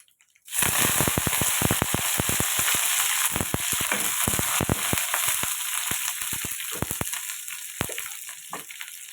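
Curry leaves dropped into hot oil for a garlic chili powder, bursting into a loud, steady sizzle with rapid crackling pops that continue throughout, close and alone.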